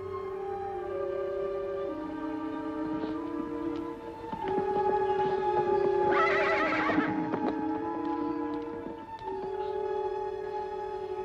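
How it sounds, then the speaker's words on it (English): Horses whinny and neigh repeatedly over a steady background with faint hoof clip-clop, one louder, longer whinny standing out near the middle; no one speaks. "What about those horses, Ellen?"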